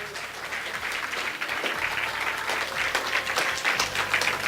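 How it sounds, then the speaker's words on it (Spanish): Steady, dense applause from a church congregation during a Spanish-language sermon, loud and continuous throughout with no talk over it. "Dele un aplauso al Señor"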